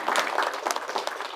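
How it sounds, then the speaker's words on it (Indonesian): Brief burst of audience clapping at a ceremony handing over a water well and refill machine, dense and fairly loud, with no talk. "terima kasih dan tepuk tangan untuk UNES."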